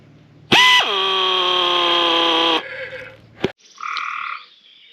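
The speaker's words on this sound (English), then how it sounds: "pneumatic nibbler or pneumatic shear." A pneumatic nibbler or shear cuts sheet steel for a bus body after a roof raise. It gives a loud, sustained, buzzing whine for about two seconds, then drops away, followed by a sharp short burst and a quieter, higher whirr.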